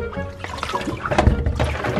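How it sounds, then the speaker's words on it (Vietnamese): Raw octopus is rinsed under running tap water, with close, fairly loud splashing and wet squelching as it is handled, and no talking. "mình rửa xong rồi mình phải bóp nước kỹ kỹ như vậy rồi mình xả nước"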